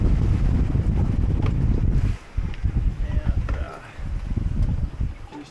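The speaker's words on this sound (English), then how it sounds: "So a little sloppy today, winds 20 to 23 knots." Strong wind of 20 to 23 knots buffeting a sailboat at sea on a Pacific crossing, heavy gusty roar blasting the microphone, dropping briefly then surging again, with a voice speaking faintly underneath.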